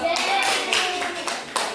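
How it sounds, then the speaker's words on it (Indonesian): A class claps together in a steady burst of applause, fairly close, with a few louder swells of hand claps throughout. "Oke, tepuk tangan dulu dong."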